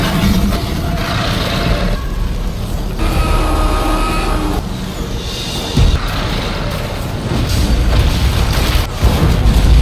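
Nuclear bomb blasts in a monster film battle as aircraft crash into a golden-horned monster, heard as loud, continuous rumbling booms and roaring explosions with deep bass thuds throughout.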